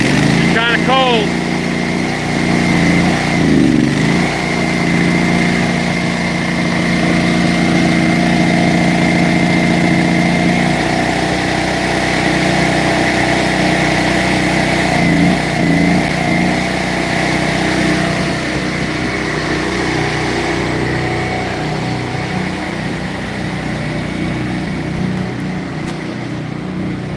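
A small engine on a log splitter runs steadily after a cold start, a loud, even idle drone with a constant low hum throughout, and someone talks over it briefly near the start.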